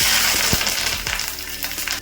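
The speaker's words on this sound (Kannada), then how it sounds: "ಇವಾಗ ಎಣ್ಣೆ ಕಾದಿದೆ. ಸ್ವಲ್ಪ ಸಾಸಿವೆ ಹಾಕೊತಾ ಇದ್ದೀನಿ, ಸ್ವಲ್ಪ ಉದ್ದಿನಬೇಳೆ," Mustard seeds, urad dal and curry leaves hitting hot oil for a tempering on brinjal chutney, a loud close crackling sizzle with sharp popping bursts scattered through it, heard alone with no talk.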